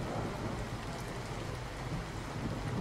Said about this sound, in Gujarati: વિરામ બાદ ફરી એકવાર વરસાદ શરૂ થયો છે